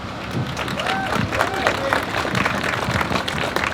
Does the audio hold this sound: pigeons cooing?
no